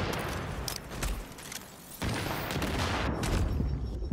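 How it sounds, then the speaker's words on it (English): Steady video game gunfire in The Division aimed at a sniper, a dense crackling volley of shots that runs without a break, loud and close, with a short dip around the middle. "I'm shooting at her now."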